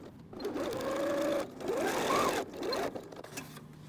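A sewing machine runs in three bursts as it top-stitches along a pressed seam in fabric, its motor whirring steadily with short pauses between runs.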